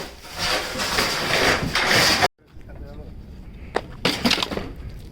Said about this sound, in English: we're smashing up the furniture, get more in the truck